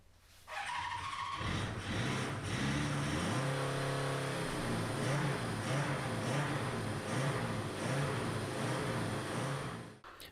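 A rebuilt car engine runs loud and steady for about ten seconds, its droning tone rising and falling slightly with the revs, with no one talking.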